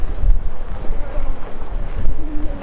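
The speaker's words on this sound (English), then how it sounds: "there's a good breeze up here" Wind gusting against the microphone on a high see-through lookout in Vila Nova de Gaia, Portugal, a loud continuous buffeting roar that swells and dips.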